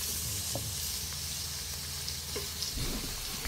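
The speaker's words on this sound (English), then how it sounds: "I'm going to add the oil in there. We will start doing the onions." Onions frying in oil with curry powder in a pan, a close steady sizzle with a few light stirring scrapes, no talk.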